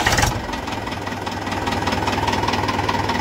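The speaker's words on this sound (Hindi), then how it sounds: "आवाज़ देखो ट्रैक्टर की कितनी प्यारी है" An old-model tractor engine idles in neutral, a steady close, loud diesel chugging with a regular knocking pulse running throughout, preceded by a brief burst of broadband noise at the very start.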